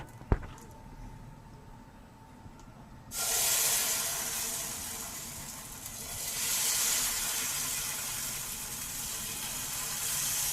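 Pitha batter with ghee sizzling on an electric griddle, a steady broad hiss that swells loudly after a quiet start and stays continuous, rising again midway, with no talking.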